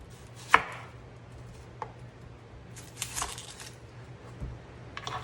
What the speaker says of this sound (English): I find that when I slice it that way, I get more of the lemon flavor.